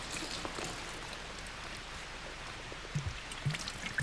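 Water running steadily, something being rinsed under it outdoors, a soft continuous splashing hiss with a few low bumps near the end.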